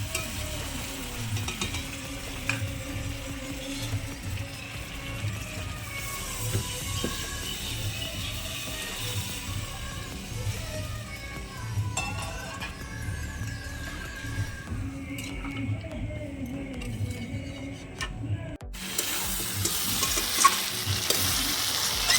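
Chicken meat sizzles and is stirred in a pan over a clay stove, a steady close frying hiss with recurring scrapes of the stirring, continuous and without talk.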